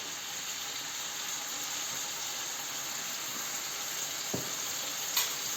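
A steady, faint sizzle of tomato paste frying in a pan, continuous and close, with a couple of small clicks near the end and no speech.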